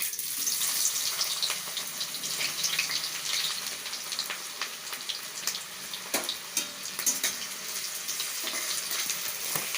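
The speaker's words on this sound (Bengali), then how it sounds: "দুটো কুচি করে রাখা পেঁয়াজ আমি এখানে দিয়ে দেবো এবারে ভাজার জন্যে" Chopped onions fry in oil and ghee in a wok, giving a steady, moderately quiet hiss and crackle with a few sharper pops, and no voices.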